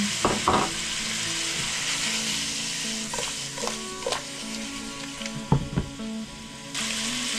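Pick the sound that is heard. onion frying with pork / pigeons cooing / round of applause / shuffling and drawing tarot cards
onion frying with pork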